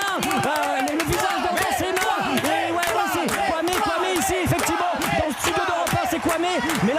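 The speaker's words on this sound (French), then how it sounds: "partout, les gens sont debout et sont en train d'applaudir un cours Suzanne Lenglen plat comme rarement" A packed tennis crowd on Court Suzanne Lenglen at Roland-Garros roars with sustained cheering, shouting and applause, loud and continuous throughout.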